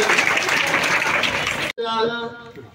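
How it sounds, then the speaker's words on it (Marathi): Dense, loud clapping from an audience welcoming guests at a village school Independence Day function in Paregav, cutting off abruptly before a voice speaks. "सगळ्यांनी जोरदार टाळ्या वाजवून स्वागत करूया"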